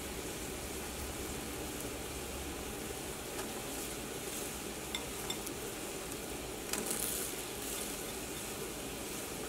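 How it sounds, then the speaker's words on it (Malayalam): Taro pieces go into a boiling, spicy-sour Kerala-style curry with no fish, over a steady, quiet simmering hiss; a brief splash of added pieces comes near the end. "ഇതിലേക്ക് ചേമ്പ് ചേർക്കാം."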